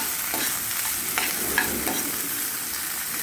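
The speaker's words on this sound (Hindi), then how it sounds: "इसमें ये थोड़ा करी पत्ता डाल देंगे। इसके साथ साथ यही भुनेगा।" Peas and curry leaves sizzle in hot oil in a pan while a spoon stirs them, giving a steady close frying hiss with a few soft scraping strokes and no talking.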